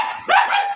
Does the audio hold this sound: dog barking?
yes